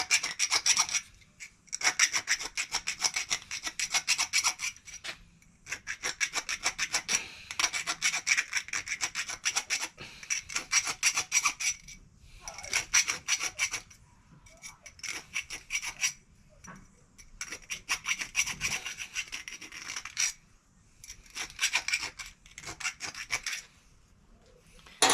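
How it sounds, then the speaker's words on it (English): A square file rasps back and forth across the edges of a workpiece being cleaned up, close and steady, strokes grouped in several bursts separated by short pauses. "It's a square file, but it'll do. I just need to clean the edges of this."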